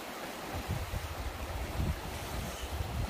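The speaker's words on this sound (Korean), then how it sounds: "동강물이 엄청 흐르고 있습니다." The Donggang River, swollen after several days of rain, rushes steadily in a continuous broadband roar with low rumbling surges and wind buffeting the microphone, with no voices.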